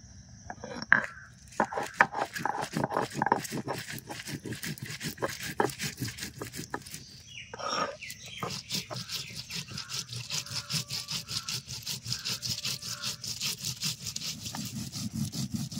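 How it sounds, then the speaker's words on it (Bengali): Whole cumin, coriander seeds and dried red chillies are ground raw by hand on a grinding stone, a close rhythmic scraping and rubbing that repeats in quick steady strokes with a short pause partway through. "কাঁচা মশলা দিয়ে, তো কিছু কাঁচা মশলা চলো বেটে নেই। এখানে নিয়েছি গোটা জিরে, ধনিয়া আর শুকনো লঙ্কা, কাঁচা অবস্থাতেই বেটে নেব।"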